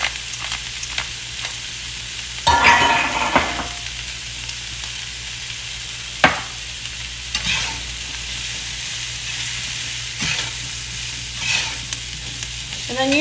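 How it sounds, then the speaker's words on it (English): Mushrooms frying in oil for a vegan lasagna, a constant close sizzle broken by several loud clattering stirs and scrapes of a utensil in the pan. "I'm just going to add a little bit more oil because we're going to add mushrooms in here now."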